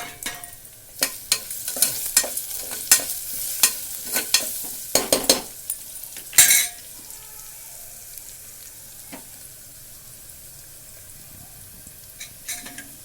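Moong dal and chopped carrot fry in a pan over a low sizzle, with a rapid run of loud, close scraping stirs and clatter that thins out into quieter frying and a few last scrapes.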